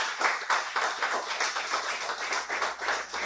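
A church congregation claps together in a steady crowd of overlapping hand claps, loud and continuous with small rhythmic surges, no voices on top.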